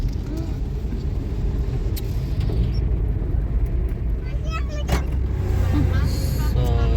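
An electric car window hums as it rolls up inside a car on a rainy day, the motor whine rising over a steady vehicle rumble while people talk.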